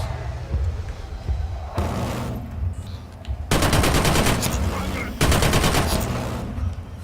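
Rapid bursts of automatic gunfire from a gun in Killzone Shadow Fall, loud and close, in several sustained volleys separated by brief pauses.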